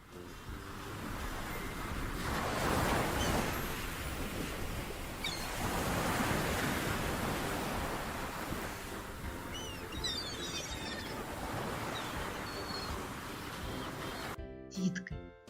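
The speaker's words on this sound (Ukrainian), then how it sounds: "А давайте зараз ми з вами послухаємо шум моря." Steady sea surf rolls on through a broadband wash of breaking waves, with faint birdlike chirps partway through and a brief clatter near the end.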